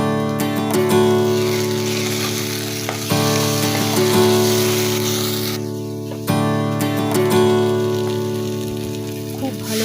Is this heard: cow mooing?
no